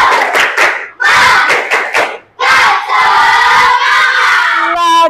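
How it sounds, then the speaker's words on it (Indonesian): A classroom of standing students performs a 'tepuk semangat' clap chant, with loud rhythmic bursts of clapping and shouting separated by short pauses, ending in a sustained group cheer. "Bapak mau tepukan kamu, tepuk semangat, tapi sambil berdiri"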